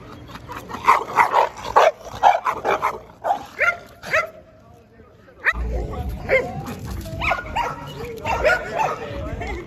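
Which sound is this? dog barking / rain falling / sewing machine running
dog barking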